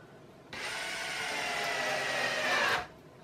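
A power drill drives a 5/8 inch screw in one continuous burst of about two seconds, its motor whine steady and close, starting and stopping abruptly with no talking.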